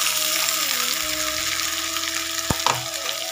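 A spice paste sizzles in a frying pan with already-fried tomato, potato and onion for a jackfruit curry with mint leaves, giving a steady close frying hiss with a few stirring clatters and no talk.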